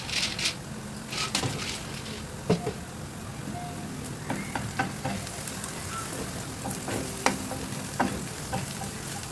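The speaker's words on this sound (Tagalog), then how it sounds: "habang ginigisa natin yung sibuyas, maglagay tayo ng pine nuts" Onions and pine nuts sauté in a pan, sizzling softly and steadily, with scattered clinks and scrapes of stirring throughout and faint talk in the background.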